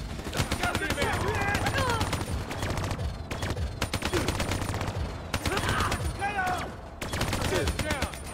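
Turret machine gun fire in the Black Ops 3 video game, a dense, continuous loud rattle of rapid shots running throughout, with a voice talking over it.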